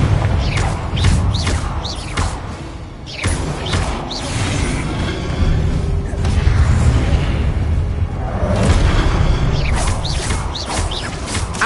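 A Confringo blasting spell in a video game sets off repeated booming explosions with crashing debris and whooshes, loud and close, in a dense, continuous barrage.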